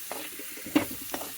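Bell pepper chutney ingredients fry in a pan with a soft, quiet sizzle, punctuated by three light stirring scrapes, close by and brief.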